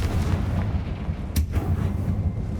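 A Confringo fire spell explodes in Hogwarts Legacy, a single sharp burst partway through that rises out of a dense, low rumbling in-game backdrop, with no voices.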